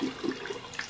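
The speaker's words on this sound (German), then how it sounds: "So, dann wasche ich hier noch das Filtersieb aus." Water runs briefly as the filter sieve of a Bissell Crosswave floor cleaner is rinsed under a tap, a short gurgling splash lasting about a second.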